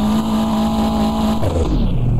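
Cars roar through a Japanese racing video game, a loud continuous engine drone with a downward pitch shift near the end as the car changes speed, and no talk over it.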